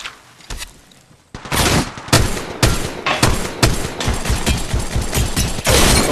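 Rapid, close bursts of automatic gunfire in the battle-royale game Apex Legends Mobile, coming as repeated sharp volleys with brief gaps between them, loud and unbroken by talk.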